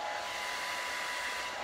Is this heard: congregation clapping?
no